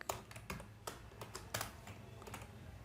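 Typing code on a computer keyboard: a quick, irregular run of soft, close key clicks and taps, quiet and without talk.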